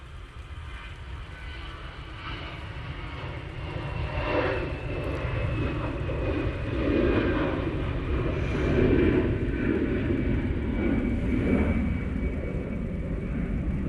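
An Airbus A320-200 jet departs Manchester Airport bound for Athens, a continuous broad engine roar heard from a distance that swells gradually and holds steady, with no talk over it.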